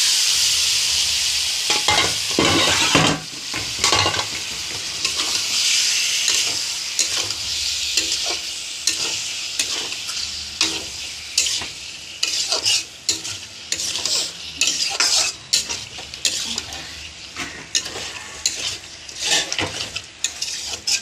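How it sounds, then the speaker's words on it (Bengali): Lote fish frying in a spice masala hisses with a loud sizzle while a spatula stirs and scrapes against the pan in repeated clattering strokes, close and continuous. "মশলা কষানো হয়ে গেছে, মাছগুলো দিয়ে দেবো।"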